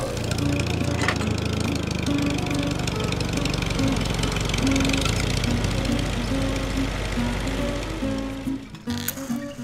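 A tractor engine runs close and loud in a steady, chugging, knocking idle that holds for several seconds, then cuts off with a few clunks at the end.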